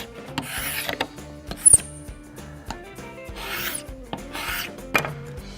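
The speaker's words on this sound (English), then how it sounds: "more than likely you're gonna be scraping bare wood" A Norton hand scraper scrapes bare wood flooring in repeated close, rasping strokes, each a short scratchy pull separated by brief pauses, with light knocks between passes.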